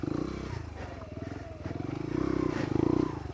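A Lexmoto Adrenaline 125cc motorcycle's small single-cylinder engine drones steadily under load, rising in pitch and loudness toward the end as it pulls through rough ground, with faint rider breathing or voice underneath.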